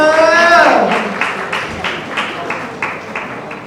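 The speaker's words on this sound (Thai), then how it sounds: "ปรบมือครับปรบมือ" Applause from the crowd at a global press event for a singer's first single, loud and continuous clapping with a voice talking over the start.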